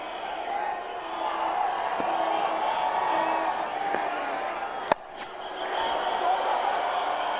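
Steady roar of a cricket crowd at an India vs Pakistan Test match in Mohali, 2005, as Pakistan supporters cheer, a dense continuous din with one sharp bang near the middle, commentary faintly beneath.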